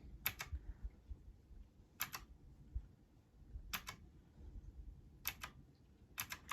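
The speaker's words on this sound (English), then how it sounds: "this is my new keyboard. It makes fun little typewriter sounds." Faint mechanical keyboard clicks with a typewriter-like sound come in short double bursts at regular intervals of about a second and a half, with low background rumble between them.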